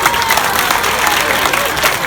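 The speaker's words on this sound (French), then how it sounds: "les femmes, les filles, des applaudissements s'il vous plaît." Audience applause from women and girls at a school excellence-day ceremony, a dense, loud wash of clapping from a crowd with some voices mixed in, steady throughout the short stretch.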